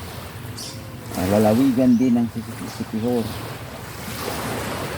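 Gentle sea waves wash onto a clean white-sand beach mixed with pebbles in Siquijor, with a steady surf wash and wind noise under someone talking.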